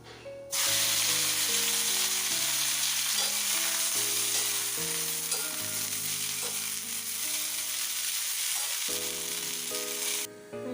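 Cauliflower curry with vegetable fritters sizzles loudly in a hot pan, a continuous close frying hiss with occasional stirring scrapes, falling briefly silent at the start and end.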